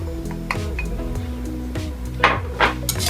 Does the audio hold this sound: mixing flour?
yes